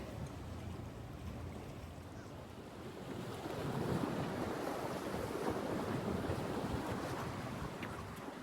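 Sea surf rolls steadily against the coast at Trieste, Italy, near a pier jutting out into the water, with wind buffeting the microphone; a broad continuous wash that swells louder midway and stays fairly close, with no voices.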